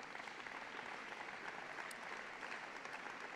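Steady applause from a large crowd at a Hall of Fame induction ceremony, a dense wash of clapping that continues evenly at moderate distance without pause.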